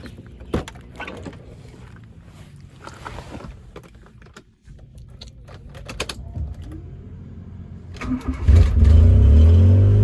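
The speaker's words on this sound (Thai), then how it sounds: "มาฟังเสียงเครื่องยนต์กันดีกว่าครับ" A few scattered clicks and knocks, then a Honda Civic four-door automatic's engine cranks and rumbles to life loudly, settling into a steady low idle.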